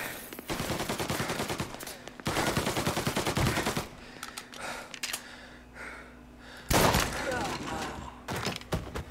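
Bursts of rapid gunfire in the Mafia Definitive Edition video game, loud automatic volleys in several clusters with a heavy blast near the end, with a voice speaking between shots.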